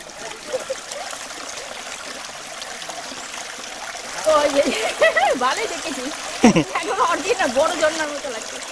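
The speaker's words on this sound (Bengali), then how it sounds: "এই হচ্ছে খেয়াছড়া সেই ঝর্ণা।" Khaiyachhara waterfall rushes with a steady, moderate wash of falling water, and voices come in over it about halfway through.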